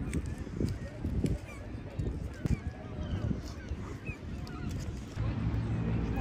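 Seagulls on Scarborough beach give scattered, short calls at a moderate distance, mixed with gusty wind and faint background chatter from the seaside.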